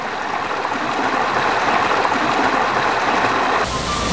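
A clear mountain stream flows with a steady, full rushing and babbling of water, close and continuous throughout, no voices present.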